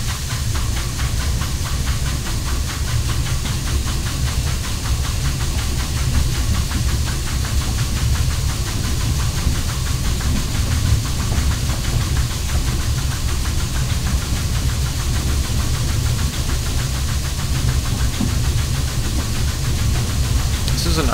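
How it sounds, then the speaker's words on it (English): Steady hiss and chuffing rumble of a small steam train running in the Mystery Railroad game, a continuous loud wash with a low engine drone throughout, with a voice talking over it at times. "This is a nice little train."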